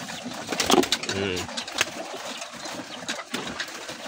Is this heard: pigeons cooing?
yes